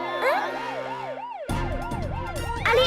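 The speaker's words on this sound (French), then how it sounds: "Laissez passer l'ambulance!" Cartoon ambulance siren wailing in a steady rising-and-falling pattern, loud and continuous, with a sharp jump in background noise partway through and no talking.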